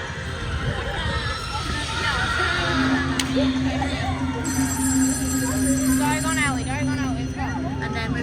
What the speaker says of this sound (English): You can hear the phone ringing.